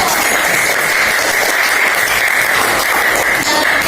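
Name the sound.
classroom applause for group 1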